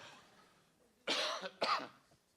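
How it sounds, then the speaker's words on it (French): Two harsh coughs in quick succession, close and fairly loud, against a quiet background. "Pardonnez-moi si je tousse là."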